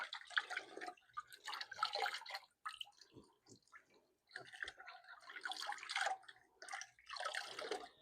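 A wooden rifle stock being refinished is rinsed under running water in a basement, giving bursts of splashing and pouring broken by short pauses with drips and trickles, close and with no speech.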